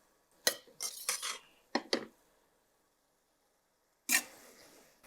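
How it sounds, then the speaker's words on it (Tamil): Vermicelli biryani is stirred in a pot with a metal spoon, giving a few separate scraping clinks that are close and fairly loud between stretches of silence. "வேகும் போது நம்ம என்ன பண்ணுறோன்னா, லைட்டாக அப்படி மிக்ஸ் பண்ணி விடுங்க"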